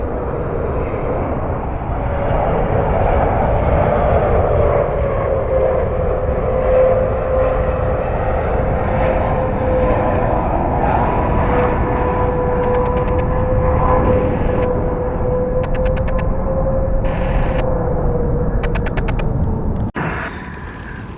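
A Saudi jet airliner inbound from Jeddah arrives at Washington Dulles, its engine roar steady and fairly loud for about twenty seconds, with a faint whining tone gliding through it before it cuts off.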